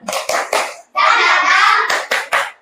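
Schoolchildren in a classroom doing a rhythmic spirit clap: sharp group claps in a quick pattern, then a burst of voices chanting together, then more claps, loud and close.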